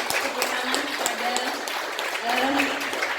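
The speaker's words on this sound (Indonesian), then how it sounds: "Saya memberikan tepuk tangan kepada" Audience applause at a teachers' association inauguration ceremony, a steady, moderately loud patter of clapping that runs throughout.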